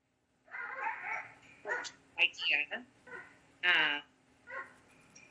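A dog barks and whimpers in short bursts, several yips and cries spread over a few seconds, close by, with people chatting around it during a casual live music stream.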